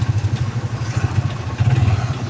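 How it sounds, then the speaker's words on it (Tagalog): Motorcycles pass along a road, a busy pulsing engine drone with uneven surges as bikes go by nearby. "Daming motor, oh."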